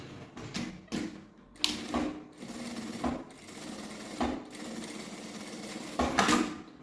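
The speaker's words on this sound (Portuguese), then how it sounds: "Na parte reta eu vou passar uma costura com um pé de máquina." A sewing machine stitching a straight seam through the fabric and lining of a sling backpack runs in close, rapid rattling bursts that start and stop several times, with short pauses in between.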